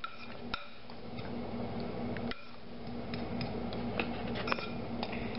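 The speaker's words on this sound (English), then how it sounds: "first I'm gonna take the fork and I'm gonna smash up the egg yolks" Fork clinks and scrapes against a bowl while mashing egg yolks, a series of light, irregular metallic ticks over a quiet background hum.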